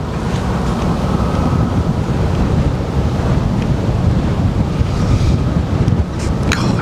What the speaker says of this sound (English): God, it's a brisk wind